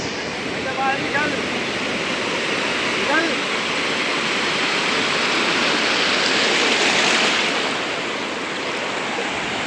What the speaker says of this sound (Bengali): তো চলো প্রথমে তোমাদের একবার সাগরে গিয়ে সাগরের আওয়াজটা শুনিয়ে দিই।